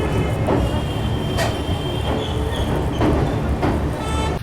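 A passenger train running on the Bangalore to Goa route through Sakleshpur in monsoon season, a continuous loud rumble with faint rhythmic wheel clatter and squeal, heard from on board.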